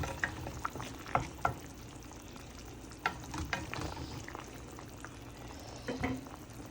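Rohu fish curry with flat beans and potato frying in a pan as a mix of raw and ripe tomatoes goes in, giving soft sizzling and bubbling with a few clattering stirs and taps, fairly quiet and close.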